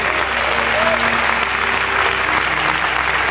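Steady applause from a church congregation fills the room during a Spanish-language sermon, a continuous dense clapping wash with no speech over it.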